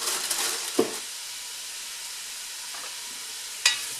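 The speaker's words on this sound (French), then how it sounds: "je remue bien" Tomato sauce being stirred in a pot for canning, a quiet, steady hiss with a soft scrape early on and one sharp clink near the end.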